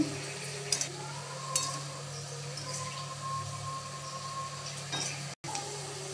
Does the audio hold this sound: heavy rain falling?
no